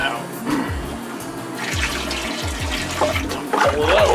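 Water being siphoned out of a home aquarium holding discus fish in a fish room, a continuous gurgling, splashing rush with low bubbling thumps, close and fairly loud.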